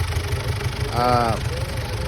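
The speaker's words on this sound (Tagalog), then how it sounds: "sobrang lakas ng pressure at mausok itong makina na to" A smoky 2011 Ford Everest engine with blow-by running steadily, a low continuous idle rumble with a brief rising whine in the middle, close up, with someone talking over it.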